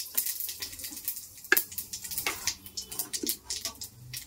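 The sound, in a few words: panch phoron spices sizzling in hot oil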